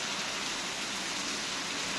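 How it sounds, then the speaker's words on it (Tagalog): Heavy rain pours down in Lloret de Mar, Spain, on an evening downpour, a dense, loud, unbroken hiss of drops on surfaces with no voices. "Sobrang lakas po ng ulan dito sa amin ngayon."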